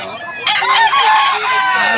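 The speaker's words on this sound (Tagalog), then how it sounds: "Napakarami na naman manok dito sa Bukawi mga idol." Roosters at a gamefowl farm in Bukawi crowing loudly and close by, one long strained cock-a-doodle-doo filling the short clip with other birds faintly behind it.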